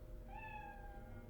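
A cat gives a single short, faint meow in a quiet bathroom, with no talking.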